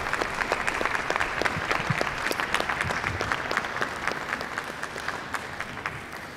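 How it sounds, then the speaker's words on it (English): Aston Martin staff applaud the reveal of the new Aston Martin DB10 car, a dense, steady round of clapping from a crowd filling the room without pause. "That's Aston Martin up there, applauding"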